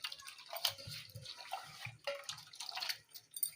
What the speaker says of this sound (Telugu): వాటర్ వేసి